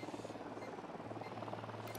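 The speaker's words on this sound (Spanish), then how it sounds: "Ojo, un helicóptero de la unidad." A helicopter in the video game Ghost Recon gives off a faint, steady rotor thrum with rhythmic chopping, distant and low in level, with no voices over it.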